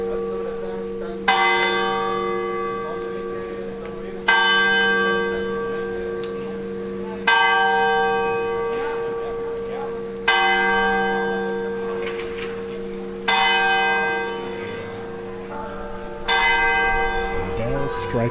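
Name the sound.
church bells striking noon in Ronda, Spain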